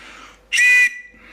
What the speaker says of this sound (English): It's a whistle for attracting attention.